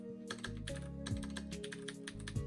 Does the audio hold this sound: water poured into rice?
no